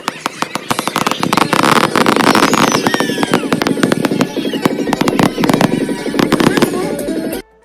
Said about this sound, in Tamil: இந்த ஃபயர் ஒர்க்ஸை ஸ்டார்ட் பண்ணாங்களா